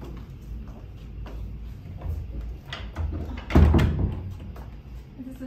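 A hotel room door to the backyard at a desert resort opens with a clunk and a louder sliding thump midway, amid faint footsteps and handling noise indoors.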